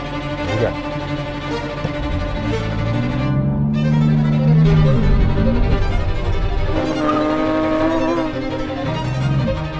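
BMW M4 CSL or Porsche 911 revving for a launch start, loud engine roar rising and falling in pitch with gear changes and tire noise, sustained for several seconds close by, no speech.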